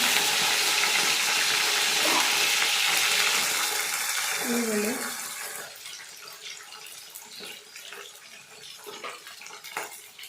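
Onion frying in hot oil for the tempering of a radish and lentil sambar, a loud broadband sizzle for the first five seconds that drops to a quieter crackle, with brief kitchen clatter.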